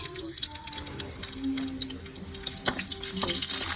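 Garlic sizzling in hot cooking oil in a pan, a steady close frying hiss with a few light clinks and stirring scrapes, no talking.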